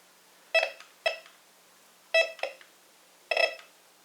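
A Bounty Hunter Tracker IV metal detector sounds its signal tone in a field test, giving four short, clean electronic beep bursts in an uneven rhythm, alone against near silence.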